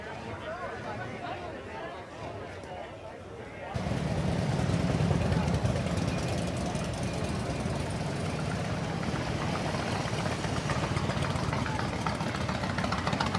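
A vintage motorcycle engine, an antique Harley-Davidson or Indian, rumbles steadily and loudly, kicking in abruptly after a quieter stretch of background chatter and continuing at an even, throaty idle.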